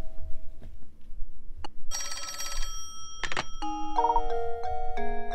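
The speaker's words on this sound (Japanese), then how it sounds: "レイトン先生、あんたに電話だよ" A telephone rings in the Professor Layton video game, heard as electronic bell trills and tonal chimes that repeat in bursts over a quiet background, with no talk.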